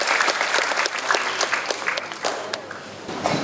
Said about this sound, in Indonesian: Sebelumnya kita kasih aplaus dulu yang kuat sekali untuk Pak Wakapolri.